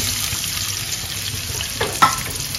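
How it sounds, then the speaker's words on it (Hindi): Onions hitting melted ghee in a pot for beef pulao, a continuous moderate sizzle with a brief louder stir or clatter near the end. "अब मैं इसमें जो है प्याज डाल दूंगा"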